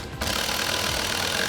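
Impact wrench with an 18mm socket tightening a strut nut on a 2016-2024 Camaro: a steady, loud mechanical buzz that starts abruptly and runs on without a break.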